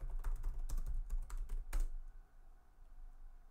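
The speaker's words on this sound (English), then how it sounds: "I'm gonna type my username and password as usual" Fast typing on a computer keyboard while entering a username and password for a git push, a dense burst of close clicks and a few sharper keystrokes that stop abruptly, then quiet room tone.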